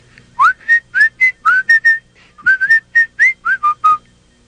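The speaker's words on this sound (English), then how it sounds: "Brer Rabbit came hopping down the road, just whistling." A lively whistled tune for a cartoon rabbit hopping down a road, made of about fifteen short rising and bouncing notes in two quick phrases, close and clear with no talking.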